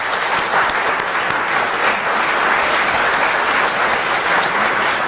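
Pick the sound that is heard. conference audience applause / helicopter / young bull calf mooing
conference audience applause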